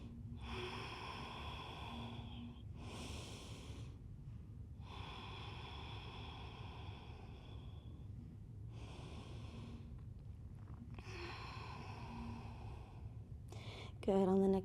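Calm, smooth breathing during a yoga flow, with slow airy inhales and exhales alternating in long, regular cycles of a few seconds each, close and soft, with a brief louder sound at the very end.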